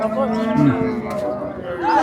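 A cow moos loudly and close by, a drawn-out low call over a busy background of people chattering at Rajshahi city cattle market.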